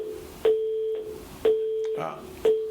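Telephone line tones from a live call with a connection problem during a news broadcast: a steady tone repeats about once per second in three clear pulses, with a brief burst of noise between the second and third.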